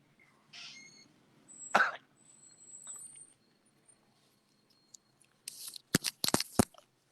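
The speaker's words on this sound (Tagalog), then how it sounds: "Kining atong ubo." A single sharp cough bursts out near the mic, followed later by a cluster of several quick, harsh clicks or coughs, with quiet pauses and faint murmurs in between on a radio broadcast.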